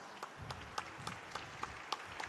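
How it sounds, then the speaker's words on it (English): Applause from the audience for the panelists at a Web Summit Rio panel, with scattered claps spread across a short stretch, moderately loud in a hall, and no talk over it. "why don't we give them a round of applause?"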